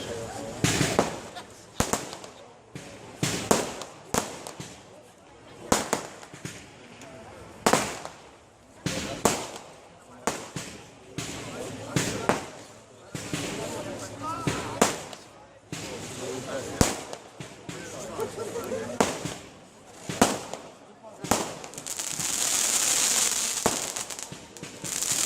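A large fireworks display at the Johanniskirmes funfair in Mettmann, 2015, with a long series of loud, irregularly spaced bangs and crackling bursts echoing outdoors while people talk nearby.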